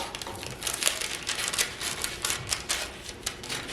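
Scissors snip repeatedly through paper to cut out a shape, making a close, rapid run of crisp cutting and crinkling sounds that continues steadily throughout, with no voice.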